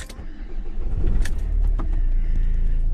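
A Renault car pulls away to start driving, with a low engine rumble and road noise that build and hold steady. A few sharp clicks and rattles sound up close inside the cabin.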